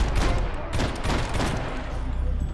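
Bursts of rapid gunfire from the Max Payne 3 shooter, loud overlapping shots in quick clusters with a brief lull near the end, a voice faintly present.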